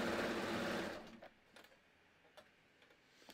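Serger sewing knit fabric with its cutting knife raised, a loud steady mechanical whir that stops after about a second, followed by a few faint ticks and clicks.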